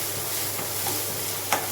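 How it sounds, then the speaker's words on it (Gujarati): Onion, tomato, turmeric and chili sauté in a pan with a soft, steady sizzle, with faint stirring scrapes and one brief louder clink near the end. "હવે 1 ચમચી જેટલું મરચું ઉમેરી દઈશું અને થોડી વાર માટે સાતળી લઈશું"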